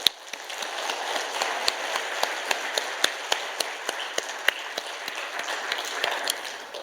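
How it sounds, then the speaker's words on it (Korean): A church congregation claps in thanks after a Wednesday evening evangelism seminar, a fairly quiet, even patter of many hands with sharper individual claps standing out, no talking over it. "우리 감사의 박수 한번 하겠습니다"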